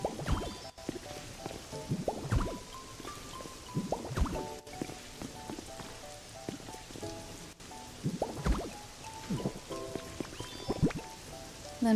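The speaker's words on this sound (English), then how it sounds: "And because I felt bad that poor Cyndaquil was getting rained on." Rain falls in the Pokemon Pokopia video game, soft patter and drips running under a gentle melodic in-game tune with scattered chime-like notes.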